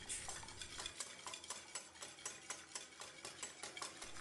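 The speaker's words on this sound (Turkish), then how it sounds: "Bunun için toplamda 2 tane yumurta kullandım ve hepsini güzelce çırpıyorum" Two eggs beaten briskly in a bowl with a utensil, fast rhythmic clicking and sloshing strokes repeating steadily and close throughout, no voices.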